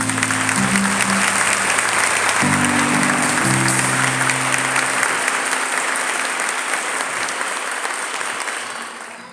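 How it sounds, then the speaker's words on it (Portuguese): A church cell-group audience breaks into loud, sustained applause, dense and steady throughout, with a few held musical tones rising beneath it early on before gradually thinning toward the end. "Uma salva de palmas para Ele, gente"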